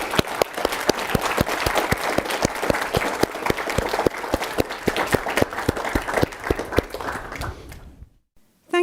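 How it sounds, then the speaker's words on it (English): Loud, sustained applause from a large crowd, dense clapping that fades out near the end into silence. "So a round of applause to all of you."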